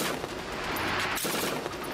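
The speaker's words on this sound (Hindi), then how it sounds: "एक स्नाइपर एक के बाद एक धड़ाधड़ गोलियां चलाकर सामने टारगेट को छलनी" A sniper rifle firing rapid shots one after another at a target, sharp reports blurring into a dense volley with loud, continuous noise and no voices.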